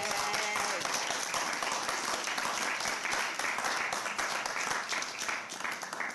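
A crowd at a Houston ISD press conference gives a round of applause for teachers and union members standing behind the podium, sustained, fairly loud clapping over several seconds that slowly thins, with some voices underneath.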